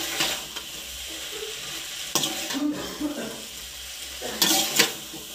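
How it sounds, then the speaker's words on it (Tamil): Chow mein noodles being tossed and mixed with masala in a pan, soft scraping and stirring bursts over a steady low sizzle, with a few louder clatters near the end. "இதை நல்லா மிக்ஸ் பண்ணி விட்டுக்கோங்க."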